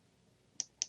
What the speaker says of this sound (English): If I right click again